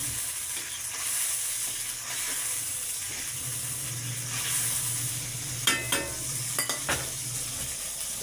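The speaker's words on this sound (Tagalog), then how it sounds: "Ayan po, kumukulo na." A pot of soup with squash and sweet potato boils steadily on a home stove, a continuous bubbling hiss with a few sharp clacks of a spoon or lid near the end, no one speaking.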